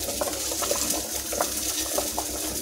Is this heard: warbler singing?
no